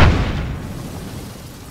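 A single loud explosion erupts at the start and rolls off into a long, fading rumble, heard alone without any talking.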